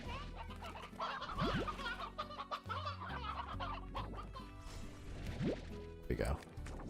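Chickens cluck in the game Slime Rancher, repeated short clucks and squawks near and loud over game music, with no talk.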